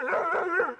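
A young Huntaway puppy gives a single short, close bark that trails into a whimpering yip.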